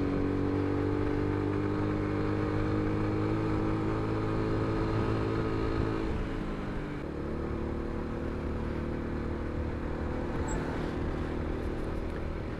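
A motorbike engine drones steadily while riding along a new road on a climb toward Balakot, a close, continuous hum that shifts in pitch partway through.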